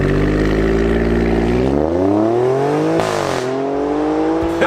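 A 2018 Alfa Romeo Stelvio Quadrifoglio engine pulls hard at full throttle, its loud growl climbing steadily in pitch, dipping briefly at a gearshift, then rising again. No one speaks.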